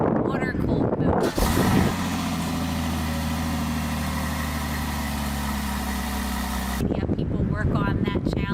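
A car engine idles steadily with a deep, even rumble for several seconds, loud and close, with voices talking before it starts and again after it stops.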